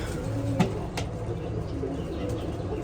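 Pigeons in a loft, soft low cooing under a steady background hum, with a brief flutter of wings near the start.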